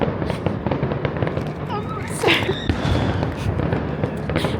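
Fireworks go off at the Alton Towers theme park near the Toxicator ride, a continuous crackle of bursts and pops at middle distance, with people talking and shouting over them.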